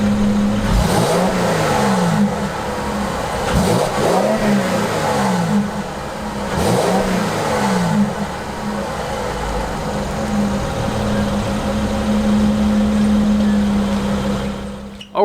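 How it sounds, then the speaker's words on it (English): A 2017 Mercedes-Benz GLE350 luxury SUV engine revs repeatedly in rising and falling surges, loud and close, then settles into a steady idle hum. "Mercedes-Benz, they build fantastic engines. They sound great."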